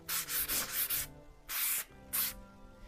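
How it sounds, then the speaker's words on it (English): Fine 220-grit sandpaper being rubbed by hand, heard as close, quiet rasping strokes: a quick run of four or five short passes, then two longer separate strokes after brief pauses, with no talking. "So this sandpaper is very, very light sandpaper."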